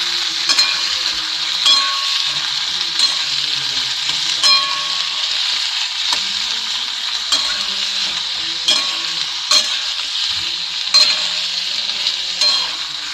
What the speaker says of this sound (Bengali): আলু আর পেঁয়াজ একসাথে ভেজে নেব গ্যাস মিডিয়ামে দেবেন